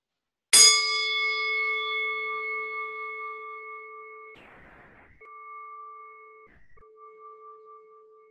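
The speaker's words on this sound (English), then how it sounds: "And we'll start with our bell." A meditation bell is struck once and rings out with a bright attack and long, pure sustained tones that slowly decay, alone and fairly loud.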